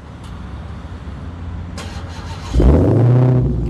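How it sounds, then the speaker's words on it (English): A Dodge Challenger Hellcat's engine is started by remote: a low background rumble, then a sudden loud, deep roar of ignition that settles into a heavy, throbbing idle close by. "Just double press it and hear the sound."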